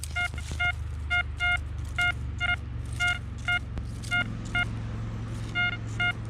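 A metal detector sweeping over a ploughed post-war German dump site gives repeated paired electronic tones, steady two-note beeps recurring in a rhythmic pattern above a constant low hum.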